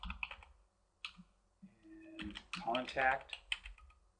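Someone types on a computer keyboard in short bursts of quick clicking keystrokes, close and clear, with someone talking in between.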